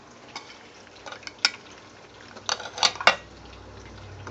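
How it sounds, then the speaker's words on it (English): Crab rangoon wontons go into a deep fryer with a soft bubbling fry, broken by sharp clinks and clatters of utensils and the pot at close range. No one speaks. "Alright, I'm going to put these in the fryer."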